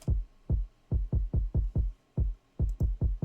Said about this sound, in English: this was just a drum pattern that I made unique